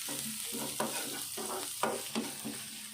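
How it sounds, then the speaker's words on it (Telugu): Onion pieces with coriander and spring onions frying in a pan, a continuous close sizzle broken by repeated rhythmic stirring scrapes and clacks of a spoon, no voices. "దీంట్లో కొద్దిగా కొత్తిమీర అలాగే స్ప్రింగ్ ఆనియన్స్ వేసుకొని ఫ్రై చేసుకోవాలి"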